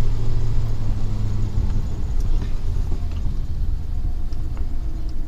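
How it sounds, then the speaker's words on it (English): A pickup truck's engine runs on the road with a low, steady rumble and road noise, loud and close throughout, with no talking. "it doesn't even sound like the same truck"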